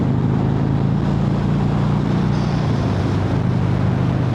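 A Harley-Davidson Fat Bob 114 motorcycle engine roars loudly and continuously as it accelerates to overtake, with a steady, heavy low rumble and wind noise throughout.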